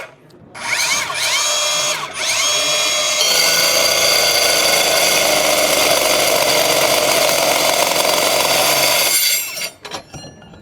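A Bosch cordless 18V brushless rebar cutter cuts through rebar with a loud, steady motor whine that starts in short bursts, then holds for about six seconds before winding down with a few clanks.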